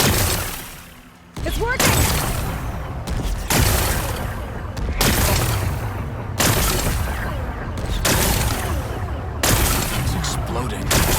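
Rocks are blasted apart in Horizon Forbidden West, with a string of loud, booming explosions bursting out at regular intervals. A voice speaks briefly over the blasts.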